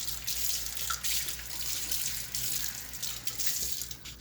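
Steady running tap water splashing into a sink while a measuring cup is rinsed out, a continuous close hiss and gush lasting throughout with no talking.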